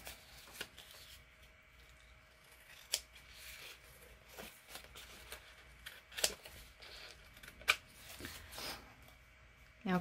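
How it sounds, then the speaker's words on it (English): Large scissors snip through a piece of cardboard for an art tag, giving a scattered series of quiet, sharp cuts and rustles in a calm room. "Get my big scissors out."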